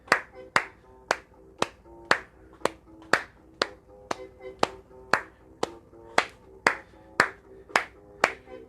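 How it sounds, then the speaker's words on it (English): A steady run of sharp, evenly spaced hand claps keeps time with quiet background music, about two claps per second, crisp and close with no talking. "we're going to get some clapping going this time. See if you can clap in time with the music."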